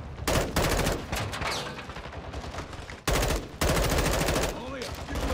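Rapid automatic gunfire from Modern Warfare 2 rattles in dense, loud bursts with a short break between them, and voices are faintly mixed in underneath.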